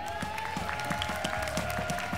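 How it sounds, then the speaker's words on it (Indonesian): Applause from a television talent show audience, steady and moderately loud with a sustained tone running beneath it. "Boleh kita beri tepuk tangan?"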